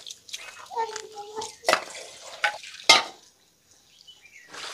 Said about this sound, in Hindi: कविता जी भी बर्तन वगैरह धोने के लिए आ गए हैं